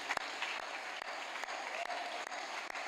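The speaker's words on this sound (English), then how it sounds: "Let me invite you to give God a 1 minute long hand clap." A church congregation at a university campus service claps together in a sustained round of applause, a dense steady patter of many hands with a few sharper louder claps, heard from some distance in a large space.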